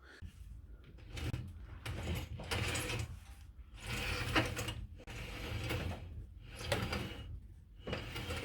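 A faulty Porsche wheel being checked gives off a rhythmic mechanical grinding and clunking, repeating in bursts roughly every second with brief quieter gaps, close and moderately loud.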